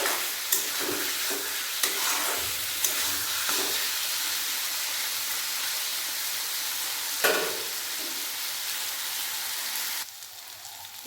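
Fried potato sautéed with bottle gourd in a pan gives a steady, loud sizzle and hiss with occasional scraping stirs, cutting to quieter near the end.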